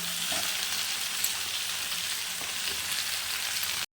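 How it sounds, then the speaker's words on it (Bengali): Potato and eggplant fry together in a pan with a loud, even sizzle and a few soft stirring knocks. The sound cuts off abruptly at the end, and no one speaks. "আলু বেগুনটা দিয়ে খুব একসাথে আমাকে ভাজা ভাজা করে নিতে লাগবে"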